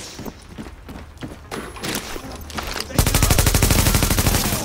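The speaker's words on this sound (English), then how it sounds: "I'm being shot at." Automatic gunfire in the video game The Division, first scattered shots and thuds, then a loud continuous rapid burst of machine-gun fire filling the second half, close and intense.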